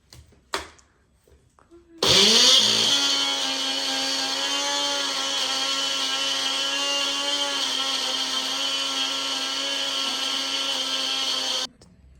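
Electric mixer grinder whirring loudly as it grinds chutney, a steady high-pitched motor whine that starts abruptly after brief quiet noises, holds constant for about ten seconds, then cuts off.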